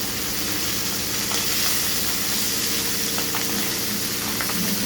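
Fish pieces fry in a pan, firm and well browned after being turned, with a dense, steady sizzle and crackle that runs throughout at close range and has no voices over it.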